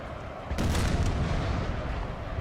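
Artillery fires in a Napoleon Total War battle, giving one heavy boom with a quick second report. It rolls on into a low, steady battlefield rumble at moderate distance.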